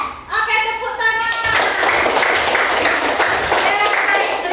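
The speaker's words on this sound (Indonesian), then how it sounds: "Oke, tepuk tangan." Schoolchildren applauding together in a classroom, a sustained wash of many small hands clapping close by, beginning after a brief spoken line from the teacher and holding steady to the end.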